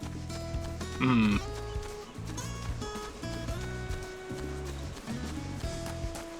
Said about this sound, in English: Steer well clear of the sheep.